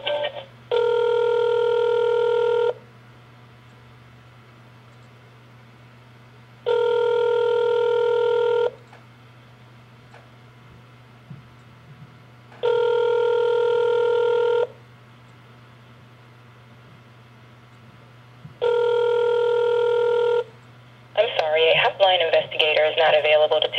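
A telephone call being transferred on an automated line, four evenly spaced ringback tones of about two seconds each over a low steady hum, followed by the start of a recorded voice.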